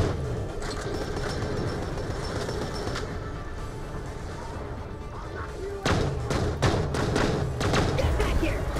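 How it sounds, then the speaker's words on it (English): A player character in the shooter game Borderlands: The Pre-Sequel is run over by a vehicle, heard as a rumbling engine under game noise followed by a cluster of heavy thuds and impacts. "Ugh, I got run over again."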